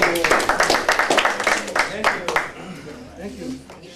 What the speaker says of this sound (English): let's do another applause.